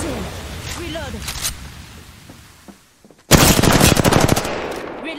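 Automatic weapon fire in the battle royale game Apex Legends: rapid bursts of loud gunfire after a quieter stretch, ending in a dense, sustained volley of shots close by, with players talking in the background.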